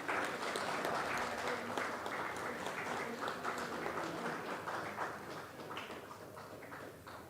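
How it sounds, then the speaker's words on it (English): A conference audience gives a round of applause during a felicitation at an international pharmaceutical conference: continuous, fairly soft, even clapping from a crowd heard at a distance, slowly tapering toward the end. "A big round of applause, everyone."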